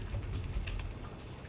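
Soft, scattered keystrokes from a computer keyboard as HTML code is typed, faint and close beneath a steady background hum, with no voices.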